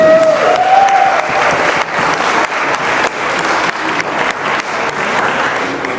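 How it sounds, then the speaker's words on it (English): Loud, sustained applause from a wedding reception crowd, dense clapping filling the space steadily throughout, with a brief tone at the start. "Let's give them a round of applause"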